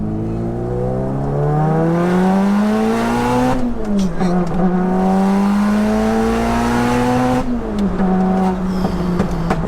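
A 601bhp four-wheel-drive converted Cupra R pulls hard in second gear, its engine note climbing steeply twice with brief drops at each lift, loud and close, with crackles and pops from the exhaust.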